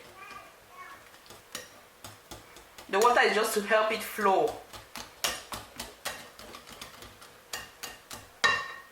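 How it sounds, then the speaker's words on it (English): Utensil clinks and scrapes against a bowl repeat in an uneven rhythm while someone briefly speaks over the stirring of banana pancake batter. "Mix everything up until everything is well incorporated."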